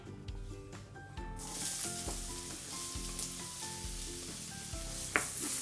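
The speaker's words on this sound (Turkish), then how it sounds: "Soğanlar kavrulurken hemen havuçları da koyacağım." Onions sautéing in a pan for bolognese sauce give a steady close sizzle with frequent spatula scrapes and stirring clatter and no voices.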